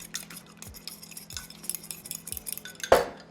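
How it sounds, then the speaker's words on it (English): A fork stirs a seasoned mix flavored with hot paprika in a bowl, giving soft scraping and light clinks in an irregular rhythm, close and quiet, ending in a sharper knock. "And then if you get a fork, you can stir it up."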